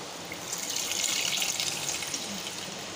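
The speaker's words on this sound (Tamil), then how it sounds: "இந்த கரைசலை நம்ம ஆட் பண்ணிக்கலாம்." A salt and tamarind solution made with rock salt is poured into a fish curry, producing a steady gushing, splashing liquid pour that stays close and fairly loud for a few seconds.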